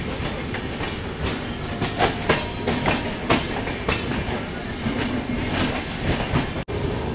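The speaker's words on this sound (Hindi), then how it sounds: "तो पैरेलल डिपार्चर हो रहा है न्यू दिल्ली रेलवे स्टेशन से तमिलनाडु एक्सप्रेस और बगल में अपने मगध एक्सप्रेस न्यू दिल्ली इस्लामपुर" Tamil Nadu Express and Magadh Express pulling out side by side from New Delhi railway station, a steady rumble with repeated clickety-clack wheel beats over rail joints, close and continuous throughout.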